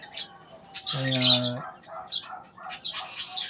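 Pet birds in a home aviary chirp and twitter close by, with a brief harmonic call and light fluttering, while a person talks softly over them.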